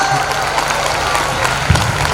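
An audience at an annual school function applauds after a shayari recitation, giving a dense, steady wash of clapping with some crowd murmur and a few louder claps near the end.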